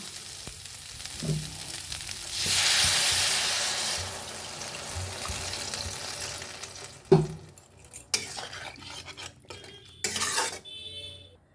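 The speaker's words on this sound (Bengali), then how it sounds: "ভালো করে নেড়ে নিয়েছি এখন জল দেব" Water poured into a pan of frying spices for a soybean nugget curry, producing a loud hiss that swells and slowly fades, followed by scattered clinks and scrapes of a utensil against the pan.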